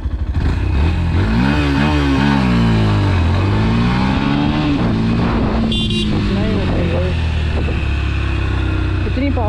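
A Yamaha FZ-S V3 BS6 fuel-injected motorcycle revs hard during a wheelie attempt, loud, close engine pitch climbing and falling in repeated surges, with the rider talking over it.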